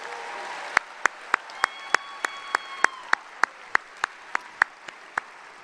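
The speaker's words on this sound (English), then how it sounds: "Let's give one big round of applause for all the finalists tonight." Scattered applause for the finalists at a Teacher of the Year event, with a few sharp claps standing out over a soft, thin background of more distant clapping.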